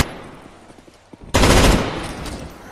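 Gunfire from a gun in the video game CS:NO bursts in suddenly after quiet background, a loud, dense volley of rapid shots that rings on and slowly decays.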